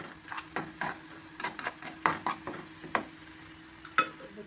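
Fenugreek stirred in a pan, a string of sharp scraping and clinking strokes over a faint sizzle, irregular and close, with quiet gaps between strokes and no talk.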